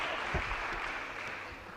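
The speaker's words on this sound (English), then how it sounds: "I want to hear all the people in this hall to clap." A hall audience claps in a steady, dense wash of applause from many hands, with a voice briefly audible underneath.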